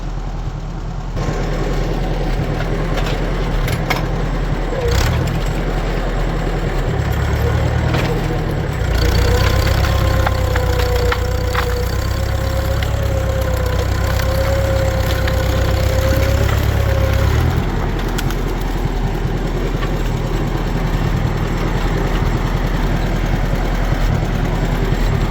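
Farmall Super C tractor engine running steadily and close by, its low rumble rising under load as it is put in gear to pull a tree out of a yard, then easing off near the end.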